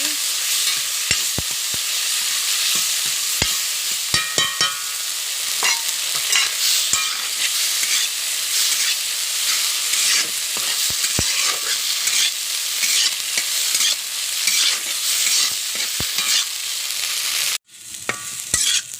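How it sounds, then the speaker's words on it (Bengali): Spice paste with potatoes for shoil fish curry fries in a pan with a splash of water, a loud, steady sizzle with regular spoon scrapes and taps, then a brief cut and the sizzling resumes. "মশলাটা একটু ভালো করে ভেজে নেব।"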